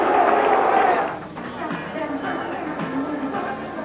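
A big crowd fills the Civic Plaza Arena in Phoenix at a ten-round welterweight boxing bout, a loud roar and murmur of spectators that eases after the first second into a steady hubbub, with a voice talking over it.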